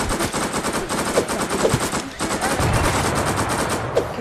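Sustained machine-gun fire in the online shooter Isolation Chimps PvP, dense rattling bursts with a few sharper shots standing out, continuous and loud throughout with no voices.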